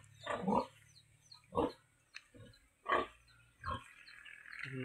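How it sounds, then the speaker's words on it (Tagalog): A pig grunts in its pen with five short, rough bursts spaced about a second apart, fairly close and clear, and no one talks over them. "Yan baboy guys, sa dako."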